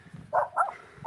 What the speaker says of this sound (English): I got some attack dogs here.